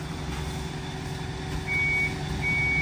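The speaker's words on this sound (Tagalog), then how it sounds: "reverse tone yung narinig nyo ngayon" A Transtron truck sounds its reverse warning, a repeating electronic tone over a steady engine idle, close and moderately loud, with no talk.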